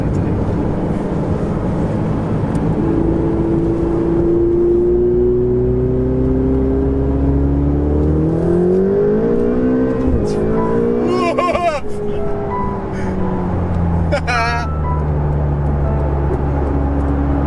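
A Ferrari 488 GTB twin-turbo engine accelerating on the road, a loud droning tone rising through the revs, dipping at shifts and climbing again, with voices talking over it inside the car.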